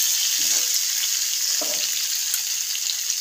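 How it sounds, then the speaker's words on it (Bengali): Potatoes and taro frying in oil with cumin seeds, a continuous bright hiss of hot oil with two short bursts of stirring, close and without speech. "এবার আমি একে একে আলু আর কচুগুলো দিয়ে দেবো। ভালো করে নেড়ে নেব।"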